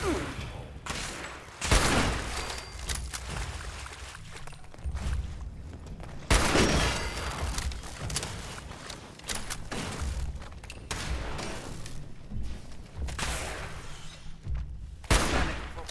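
Gunfire in Fallout 76, several sharp loud shots spaced across the stretch over a busy game backdrop with some talk mixed in.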